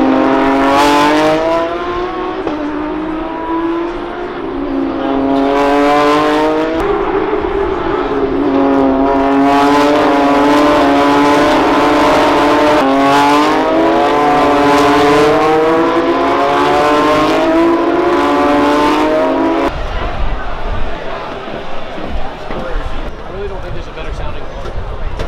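Formula 1 race cars at the US Grand Prix scream past one after another, high rising engine whines sweeping loudly across the track in repeated waves, then fade to crowd noise.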